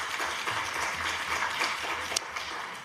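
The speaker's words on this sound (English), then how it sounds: "Please give her an applause." A forum audience at a women's leadership event applauds a speaker walking onstage, producing dense, even, moderately loud clapping with a low hum beneath it.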